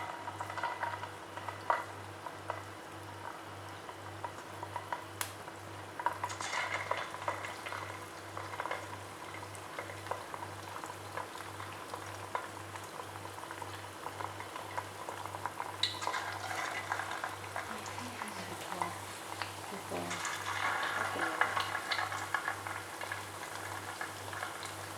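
Small vermicelli snack balls deep frying in hot oil, a soft steady bubbling and faint crackle lasting throughout, with occasional stirring clicks and a low steady hum underneath, fairly quiet and close.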